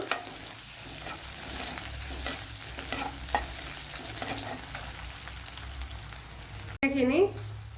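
A cut green chili sautéing in a pan used earlier for roasting coconut, giving a steady sizzle with soft stirring scrapes. A sudden louder clatter comes near the end, and a faint voice is heard briefly.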